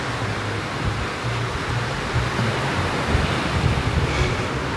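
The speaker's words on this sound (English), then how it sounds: "You can hear the sea. There's a few waves piling in." Sea waves roll in near an open-air bar in Pattaya, a continuous broad wash of surf and wind noise that holds steady and fairly loud throughout.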